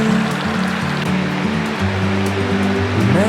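Creek water rushes steadily near a waterfall, a loud, continuous wash of flow with a faint low engine-like hum underneath.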